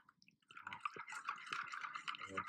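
Gelatin mix being added to two cups of hot water, small soft drips and wet splashes with a few sharper plops that start after a brief quiet moment and continue up close.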